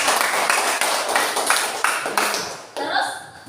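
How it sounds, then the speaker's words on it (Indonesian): A class of children claps together in a quick, rhythmic pattern of sharp bursts, close and loud, with a short pause before a final round. "Oke, tepuk tangan untuk kita."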